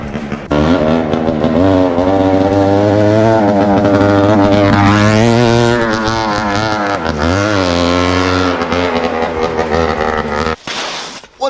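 A 1964 Montesa Diablo dirt bike engine revs hard and loud for about ten seconds, its raw two-stroke tone rising and falling with throttle blips before cutting off abruptly.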